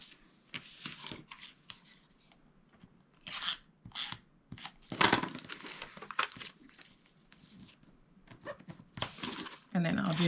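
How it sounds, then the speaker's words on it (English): Double-sided tape peeled and pulled into place while making a padded box; close, irregular bursts of sticky tearing and crinkling with quiet pauses between them. "place down some double stick tape, pull that double stick tape in"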